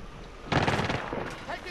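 Gunfire in Call of Duty Modern Warfare, a sudden burst of rapid shots that starts abruptly partway through and rattles on for about a second, fairly close, with a voice briefly audible around it.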